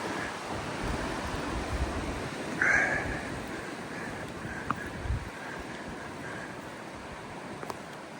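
Wind blows steadily on a cold winter mountain walk, a constant rushing and buffeting roar across the microphone with a few small knocks and gusts, and no talking.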